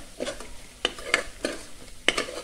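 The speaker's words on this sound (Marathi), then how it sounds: "आता आपण मसाले चांगले तेलामध्ये पोळून घेऊया, परतून घेऊया." Spices are stirred and fried in hot oil, with four or five distinct, close scraping strokes of a spoon against the pan over a quiet sizzle.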